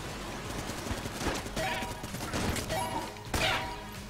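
Rapid sniper rifle fire in a video game cracks out amid dense, busy combat noise, with several sharp shot bursts standing out over a constant clatter of action.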